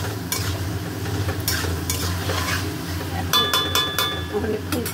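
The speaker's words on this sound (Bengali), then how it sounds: "এবারে আলুগুলো দিয়ে কষবো" Fried potatoes stir-fried in hot oil in a pan, a dense close sizzle broken by repeated scraping strokes of the spatula and a few metallic clinks near the end.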